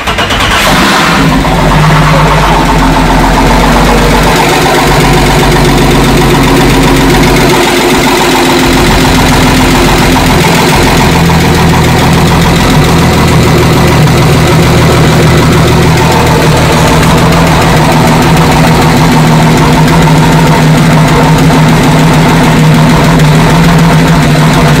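An Audi 2.8 AAH engine fitted in a motorboat, first start after two years without a cooling system: a brief cranking catch, then a loud, close, steady rough idle rumbling on continuously.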